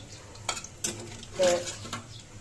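Snakehead fish bhuna being stirred in a pan with ground spices, a few scraping stirs and utensil clinks over a low sizzle, close by and moderately quiet, with faint speech in the background.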